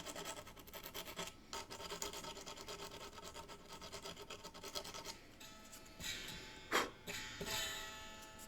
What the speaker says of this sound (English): take yourself a emery board for filing nails